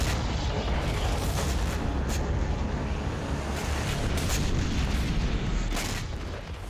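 Missile and rocket launcher strikes hit the Azovstal steel plant in Mariupol, heard as continuous heavy rumbling with repeated booms and blasts rolling over one another, dense and loud throughout with no pauses.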